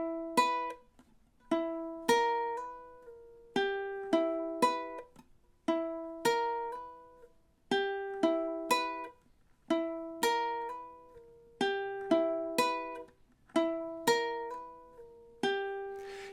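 A ukulele plays the same short plucked phrase with a slide four times in a row, clean and evenly spaced, each repetition ringing briefly before the next.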